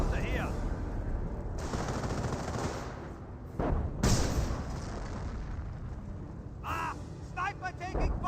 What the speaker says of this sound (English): Oh, we got airburst runs being called on in